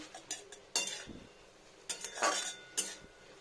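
Cooked greens with green chilli mashed in a pan, making metal utensil scrapes and clinks against the pan in a few irregular bursts, close and moderately quiet, with a faint background hiss.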